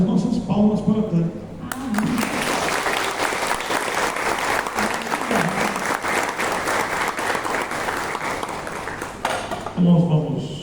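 An audience claps warmly for Tânia at a talk, a steady sustained round of applause lasting several seconds, with a voice speaking just before and after it.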